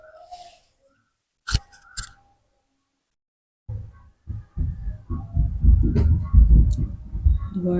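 A domestic sewing machine stitches the seam of ladies' pants down to the hem, starting with a few isolated clicks and then settling into a rapid, close, rhythmic chatter of needle strokes that grows louder toward the end.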